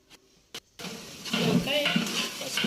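A spoon stirs mutton curry with kasuri methi in a pan, a few faint clinks first, then steady scraping and sizzling with a voice faintly underneath.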